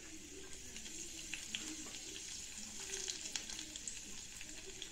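Mustard seeds, cumin and lentils with dried red chillies, green chillies, ginger and asafoetida fry in hot oil for a banana stem yogurt chutney tempering, a faint steady sizzle dotted with small crackling pops, with no talk.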